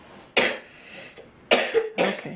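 Several close, abrupt coughs from a child, one burst followed after a pause by two more in quick succession, fairly loud against a quiet room.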